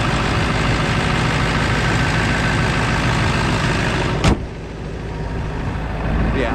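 A used truck engine idles with a steady, loud low rumble and no blow-by, running evenly before a brief click and a slight drop in level, then carrying on.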